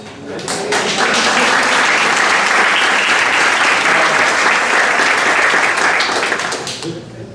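A conference audience bursts into applause that swells quickly, holds as a loud dense round of clapping for several seconds, then fades out, close and with a voice faintly underneath.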